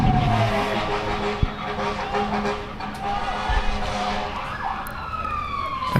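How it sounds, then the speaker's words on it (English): Ambulance sirens wail around town, rising and falling over traffic and crowd noise near a varsity soccer game, with people talking nearby. "we've got sirens going off everywhere around town right now"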